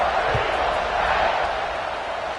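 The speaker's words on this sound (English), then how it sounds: "this crowd is buzzing after that last score" A college football stadium crowd buzzing after a touchdown, a steady, dense roar of many voices filling the background without letting up.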